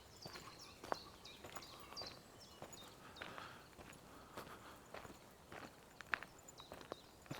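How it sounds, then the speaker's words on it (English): Scattered footsteps crunching on a forest floor, soft and irregular at close to middle distance, with faint bird calls and rustling in the quiet surroundings. "I do hear footsteps just to my right here"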